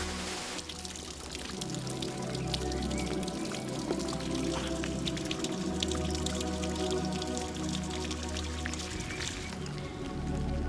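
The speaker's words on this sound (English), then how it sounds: "And it's pouring down the rain still." Heavy rain pours down steadily during a wet afternoon walk near a bridge in the Yorkshire Dales, a dense continuous wash of drops and water close by with no talk.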